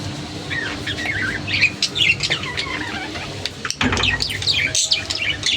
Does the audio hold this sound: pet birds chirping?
yes